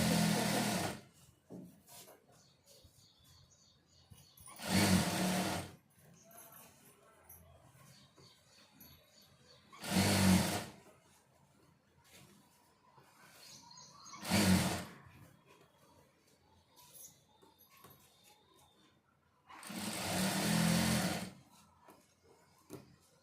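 A sewing machine stitches fabric piping in five separate bursts of rapid mechanical whirring, each a second or two long, with quiet pauses in between; the bursts sound close and fairly loud.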